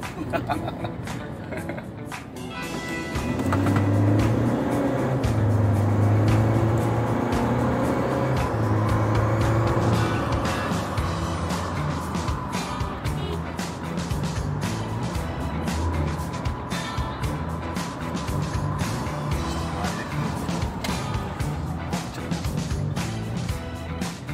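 A 2018 Mitsubishi Pajero Dakar 4x4 heard from inside while driving on a wide road, its engine a steady, continuous drone that swells early on and then holds, with people talking throughout.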